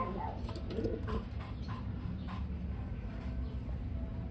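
Soft, low pigeon cooing repeats a few times against a steady background hum, fairly faint and somewhat distant.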